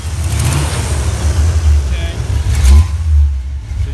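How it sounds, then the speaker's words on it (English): A deep, throaty 1979 Pontiac Trans Am engine idling and revving loudly up close, its low rumble surging and settling over several seconds. "So you guys can hear how throaty this car actually is."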